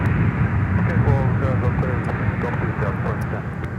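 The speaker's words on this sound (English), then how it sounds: "touching down is Southwest. Flight 1270 from Chicago Midway" A Southwest airliner arriving from Chicago Midway touches down at Minneapolis-St. Paul airport, a broad steady jet roar at moderate distance with a person talking over it.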